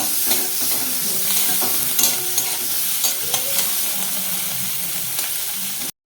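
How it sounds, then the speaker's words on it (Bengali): Pond snails frying in a pan, a loud continuous close sizzle with regular scraping strokes of a spatula stirring them, ending abruptly. "আমুল ভাজা হয়ে গেছে এবার এটাকে তুলে নেব"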